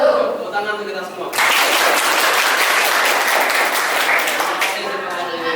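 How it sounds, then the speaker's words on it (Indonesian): Audience applause bursts in abruptly after a brief stretch of voice and continues as a loud, dense, steady clapping for several seconds before easing as the voice returns. "Tepuk tangan untuk kita semua."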